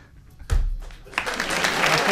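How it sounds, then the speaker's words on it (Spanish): A studio audience on a Spanish comedy show starts clapping after a sudden thump, the applause rising into a dense, close burst of hand claps that continues to the end. "Andreu acaba de forzar este aplauso"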